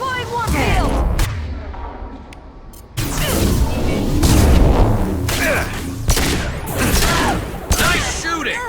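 Squad gunfire and warp field biotic blasts from the video game Mass Effect 2 crack and boom in rapid bursts, loud and close, with dense volleys broken by brief pauses.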